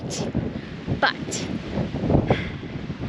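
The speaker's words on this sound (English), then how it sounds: "the wind was so strong on this point" Strong wind buffets the microphone at an exposed viewpoint on the rim of the Grand Canyon, a steady loud rumble with gusts rising and falling throughout, heard alone.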